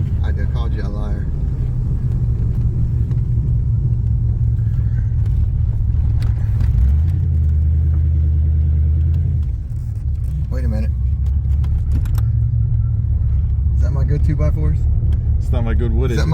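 Steady low engine drone from a 1984 Chevrolet Camaro Z28, back on the road but still needing work, heard from inside the car while driving. The pitch shifts partway through, and people talk over it.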